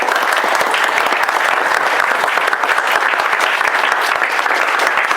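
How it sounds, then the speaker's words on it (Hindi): Audience applause fills a mentoring session hall for ACCA students, steady loud clapping from a crowd that carries on without pause. "जहां से ताली की आवाज ही और आ रही है"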